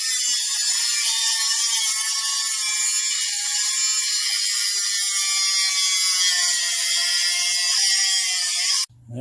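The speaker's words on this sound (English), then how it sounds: "It's time to hit the old belt sander and start hitting this with some love" Belt sander grinding the tip of a custom Old West Bowie knife blade, a loud steady high-pitched abrasive hiss running continuously before cutting off sharply at the end.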